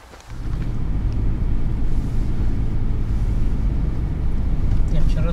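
Car driving along with a steady low engine and road rumble heard from inside the cabin, continuous and fairly loud after a quiet first moment, with people talking over it.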